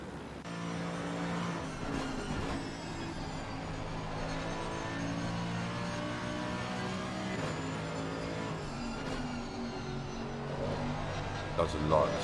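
A Mercedes GT3 racing car engine drones and revs in an Assetto Corsa Competizione league race at Brands Hatch, a steady harmonic roar with shifting pitch under ongoing commentary.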